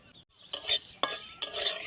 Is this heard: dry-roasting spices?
yes